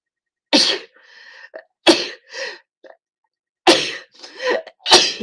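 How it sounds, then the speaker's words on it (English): A person's sneezing fit: several loud explosive sneezes in succession, each with a sharp burst and breathy trailing sounds, close to the mic with silences between. "Oh, I'm going to sneeze. Daily sneezing fit."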